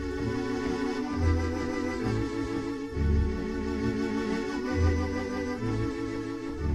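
Theatre pipe organ playing an 8-foot registration of tibia, strings, flute and vox, with sustained chords over a pulsing bass line, steady and fairly full, without speech.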